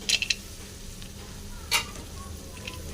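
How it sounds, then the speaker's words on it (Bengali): Cashews fry in a pan alongside cauliflower for fried rice, giving a low steady sizzle broken by a few sharp metallic clinks of utensil against pan near the start and middle. "কাজুগুলো হালকা করে ভেজে নিলাম"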